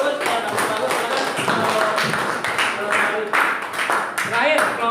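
Classroom applause as students clap their hands for a group, a busy, uneven patter of claps with voices speaking and calling out over it throughout.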